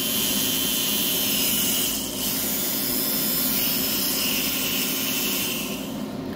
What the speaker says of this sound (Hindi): साउंड सुनकर आपको लग रहा है जो एग्रीकल्चर हाई आरपीएम वाला है उसका स्पीड ज्यादा है